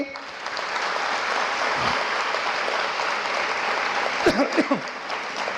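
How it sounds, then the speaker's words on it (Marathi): Dense, sustained audience applause at a humorous Marathi speech event, a loud, steady wash of clapping that continues throughout, with a brief voice cutting in near the end. "एकदा जोरदार टाळ्या होत्या आपल्या मायबापासाठी"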